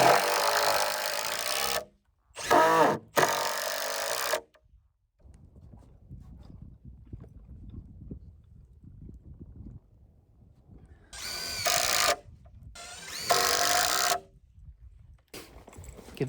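A cordless drill with a star bit drives 3-inch screws into wooden footing forms: loud whirring bursts in two groups, each split by brief pauses, with quiet wood handling and shuffling heard in between.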